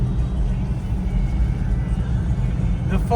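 Trucks on the twisty Transfagarasan mountain road in Romania produce a low, continuous engine rumble, with faint voices underneath.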